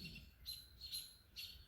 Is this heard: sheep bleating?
no